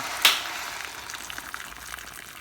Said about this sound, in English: That's boiling